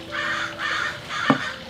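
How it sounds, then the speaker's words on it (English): Fighting crows caw harshly outdoors, three loud rasping calls in steady succession with a sharp click near the end and no talking. "There's a battle behind us of the crows"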